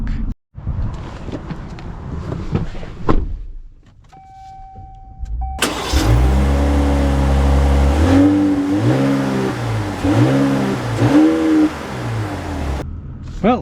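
A 2025 Ram 1500 Rebel pickup with the Hurricane engine cranks and catches, then revs repeatedly in loud rising-and-falling surges at close range after a quiet moment with a faint tone.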